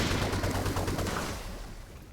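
A Psy Cannon fires in the strategy game Warhammer 40,000: Chaos Gate – Daemonhunters, a loud burst of rapid crackling shots that fades out over about two seconds.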